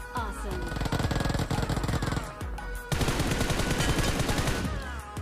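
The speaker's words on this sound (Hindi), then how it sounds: "पीछे से और एक गन साउंड आता है" Rapid automatic gunfire in the BGMI mobile battle royale game, dense loud bursts of shots with a brief gap before a second sustained volley.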